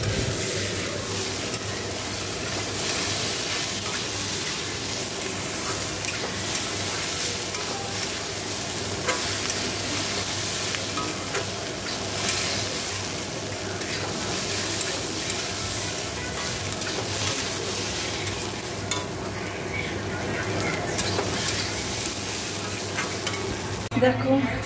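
An egg omelette fries in a hot pan, a steady dense sizzle and crackle that holds at an even level throughout, with no talking.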